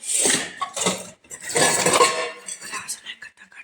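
Dishes and utensils clatter and clink in bursts, with people talking nearby over the clatter.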